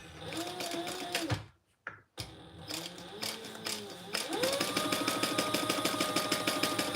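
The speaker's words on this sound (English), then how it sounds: "we're going to sew that together with the standard seam allowance that's in the pattern" A sewing machine stitches a seam in quick rhythmic bursts, close and fairly quiet, pausing briefly before running steadily again, with no voices.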